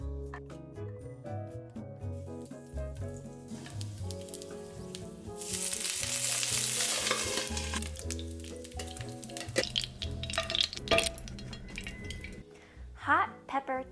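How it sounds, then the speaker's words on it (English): Hot pepper japchae dumplings from a Korean grocery store pan-fry with a soft sizzle. Music plays over it, and pans and utensils clink now and then as the sizzle swells and fades. "But I'm gonna pan fry them."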